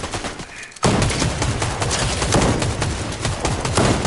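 Dense, continuous gunfire in the video game Fortnite, a loud sustained burst of rapid shots starting abruptly after a brief quiet moment and carrying on without a break.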